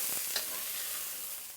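Squid stir-frying in a wok makes a steady, bright, close sizzle that lasts throughout, with no talking.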